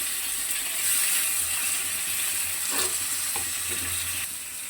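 Tomatoes being stirred and lightly fried in a pan, a steady hissing sizzle with occasional scrape of the spatula, loud and close, no talk.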